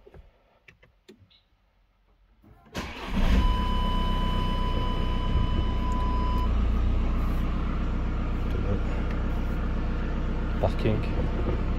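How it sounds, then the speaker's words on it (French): A 2016 VW Sharan being started: faint clicks and rustling at first, then the engine catches with a sudden loud surge and settles into a steady idle, with a steady warning beep sounding for a few seconds. "Ici on démarre la voiture."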